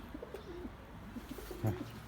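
Pigeons coo softly nearby in a series of low, rounded calls, with one louder coo near the end over faint background noise.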